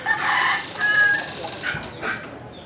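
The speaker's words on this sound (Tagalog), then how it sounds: "Barato ra niya, pugi nga manok" A rooster crows at a chicken market in Consolacion, Cebu, one loud, drawn-out call with a second, fainter crow trailing after it.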